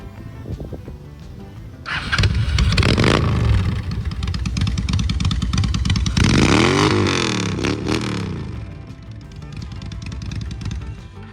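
A red bobber motorcycle with a new exhaust revs loudly, rising in two strong throttle blips over a rough idle, then settling back down.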